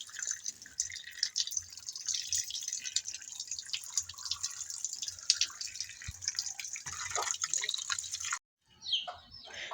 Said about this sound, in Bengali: বড়ইগুলো আমি সুন্দর করে ধুয়ে নিব